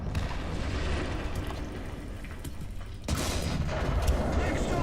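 Tank cannon fire in the War Thunder arcade game, a loud booming shot that erupts near the three-second mark over a constant rumble of engines and battle noise.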